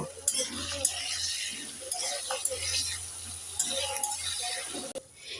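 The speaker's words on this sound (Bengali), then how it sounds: "একটু নেড়ে চেড়ে দিয়ে দেব" Flat beans fried red in a pan get stirred with a little turmeric powder for shim paturi, with soft sizzling, scraping and occasional utensil clinks against the pan, fairly quiet and close.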